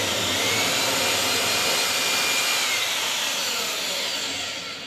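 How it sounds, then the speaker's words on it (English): Steady, loud whirring drone of a power drill boring continuously into a wooden post, high-pitched and grinding, easing off slightly toward the end; no voices. "Now as we drill in"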